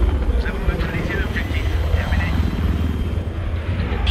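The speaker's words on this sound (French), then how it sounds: "Il y a le Havoc, ouais." Havoc attack helicopter flying in Battlefield 3, a steady rotor and engine drone with distant battlefield noise underneath, moderately loud and continuous without pause.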